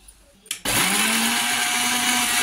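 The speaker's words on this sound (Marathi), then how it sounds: "पाणी टाकून आपण वाटून घेऊ" After a brief clatter, a kitchen mixer starts up and runs loud and steady, grinding roasted masala and coconut with water into a paste, its motor whine holding an even pitch.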